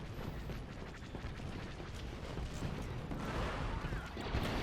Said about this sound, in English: A lot of explosions, a lot of blasters going everywhere.